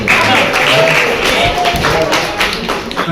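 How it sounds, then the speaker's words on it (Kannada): Audience applause at a school event in Mandya: a dense, steady patter of many hands clapping close by, with voices talking underneath. "ನೋಡೋಣ ಸಭಾ ನೋಡಿದ್ರೆ ಅವ್ರ ಚಪ್ಪಾಳೆ ಎಲ್ಲ ಸೇರಿ"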